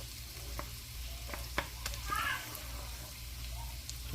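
Shrimp frying in butter in a pan, a low sizzle with soft crackles and a brief louder hiss midway, close by with no voices.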